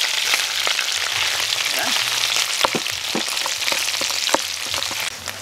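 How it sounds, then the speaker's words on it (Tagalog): Garlic sautéing in hot oil in a pan, a steady close sizzle with scattered pops and crackles, while a voice briefly speaks over it. "Magigisa tayo ng bawang."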